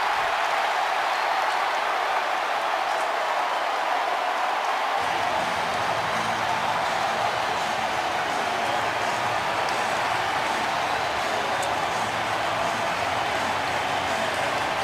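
Stadium crowd roaring at an NFL game between the Seahawks and Bears after Devin Hester's 89-yard punt return touchdown, a loud, sustained wall of cheering that swells after the first few seconds and holds steady throughout.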